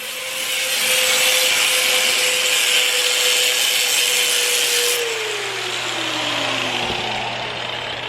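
A saw blade grinds steadily through a hard steel exhaust pipe during a muffler install on a K24-swapped EK sedan, a loud continuous rasping cut with a steady tone that drops in pitch near the end.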